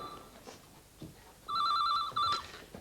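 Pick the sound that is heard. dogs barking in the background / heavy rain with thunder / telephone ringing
telephone ringing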